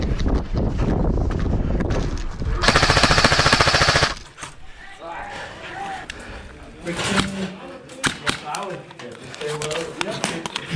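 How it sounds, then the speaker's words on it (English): Airsoft gun fires a rapid, loud burst of shots from inside a room during a Rangers versus airsoft match, followed by scattered single pops and rustling movement under voices. "he's firing pretty deep from that room"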